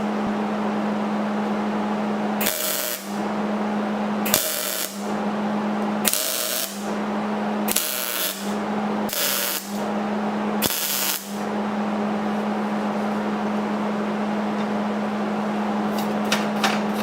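Tack welding steel on a custom motor mount stand for a 1956 Ford F100, a series of tacks stacked to fill a gap: six short crackling bursts of arc spaced over a steady electrical hum, no talking.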